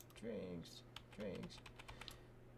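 Clicks of a computer keyboard being typed on while building a digital register in FileMaker, light scattered taps under a voice that talks over part of it.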